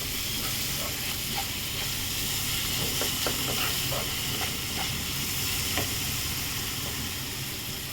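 Vegetables fry in a pan for a soya egg rice dish, giving a steady hiss and sizzle with occasional soft stirring clicks and scrapes, close and moderately quiet.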